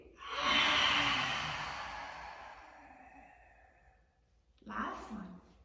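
A long, deep exhale during a guided yoga breathing exercise, loud and airy, tapering off over a few seconds before a shorter, fainter breath follows.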